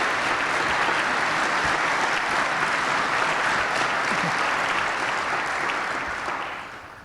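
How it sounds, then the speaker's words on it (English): Steady, dense applause from an audience at an evening awards reception, honoring sponsors; loud and sustained for about six seconds before fading out at the end, with no talk over it. "Please join me in a round of applause for our elevated sponsors."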